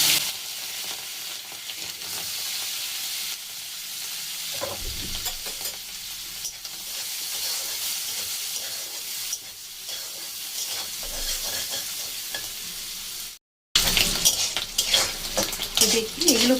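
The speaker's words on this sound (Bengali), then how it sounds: "অল্প একটু নুন দিলাম, নুন দিয়ে এখন এগুলোকে ভেজে নেব," Freshwater snails fried with a little salt in a pan, heard as a continuous sizzle with scraping stirs and clinks of a utensil against metal; the sound breaks off briefly and resumes busier and louder.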